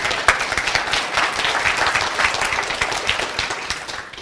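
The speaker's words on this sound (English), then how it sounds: "Give him a nice round of applause" Audience applause during a live magic course session, dense continuous clapping from a room full of people, fairly loud and close, with a few sharp individual claps standing out.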